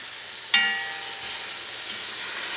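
Small grated tomatoes drop into a hot smoked-paprika base and set off a sudden bright sizzle that fades into a steady, quiet frying hiss, with a faint stir near the end.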